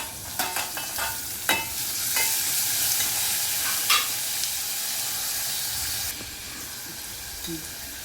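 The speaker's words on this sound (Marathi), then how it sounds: "कांदा परतून झाल्यावर टोमॅटो घालायचा आहे." Tomato tossed into a pan of sautéed onion sizzles and hisses steadily, broken by a few sharp stirring scrapes near the start and a brief clatter toward the end; close and fairly loud, no voices.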